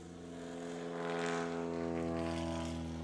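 A STOL propeller plane takes off during short takeoff and landing practice in the Appalachian Mountains, its engine and prop droning loudly and steadily, swelling slightly as it climbs away.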